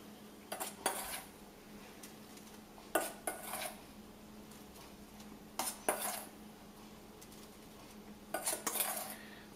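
A spoon clinks and scrapes against a Frima multifunction pan while pudding is stirred, coming in four short bursts of clattering separated by quiet pauses, close and fairly faint.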